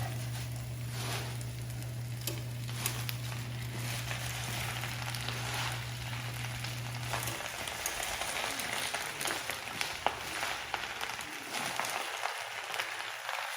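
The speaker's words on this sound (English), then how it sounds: "Now the garlic is nice and sizzling right there." Steady crackling sizzle of garlic and spinach frying in a hot pan, continuous and close, with a low hum that cuts out midway.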